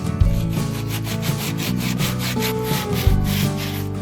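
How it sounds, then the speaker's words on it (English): Steady rhythmic hand sanding of a wooden groove, back-and-forth strokes in a fast even pattern, close and loud. "So he's trying to sand that off in there, get that groove cleaned up."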